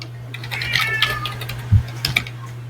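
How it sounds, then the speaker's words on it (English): A cat meows a few times in the background of a conversation, the calls short and fairly faint, mixed with small clicks and a steady electrical hum. "I just hear meowing in the background."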